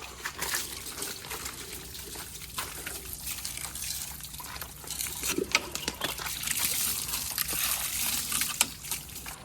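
Water gushes steadily over a tractor being washed outdoors near a garden, a broad, continuous splashing and spraying that swells slightly toward the end, with no talk over it.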